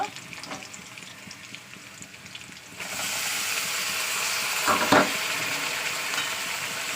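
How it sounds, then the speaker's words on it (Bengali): 500 grams of meat added to hot oil with browned onions, the sizzle jumping loud and steady partway through with a brief stirring clatter, frying on continuously without talk. "মাংসটা দিয়ে ভালো করে আমি তেলের মধ্যে নাড়াচাড়া করে নেবো।"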